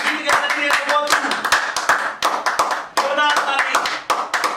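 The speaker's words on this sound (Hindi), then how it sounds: "जोरदार ताली।" Studio audience at a Maithili comedy quiz show clapping loudly, a dense rapid patter of many hands in uneven bursts, with speech mixed in beneath the claps.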